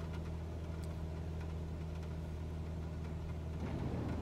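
A light aircraft engine runs at nearly full throttle in flight, a steady, loud droning hum with a constant tone throughout, slightly swelling near the end.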